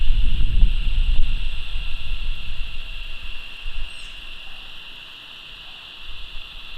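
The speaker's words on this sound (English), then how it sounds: "Honestly, the only problem is the noise of the motor." Motor of a MOZA Slypod E motorized camera slider running, a steady, fairly loud electric whine with a constant high-pitched tone, preceded by a brief rustle of handling at the start.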